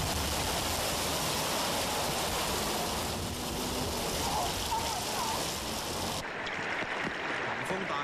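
Heavy rain pouring over Hong Kong during flooding, a dense, loud, unbroken hiss of falling water that thins slightly near the end.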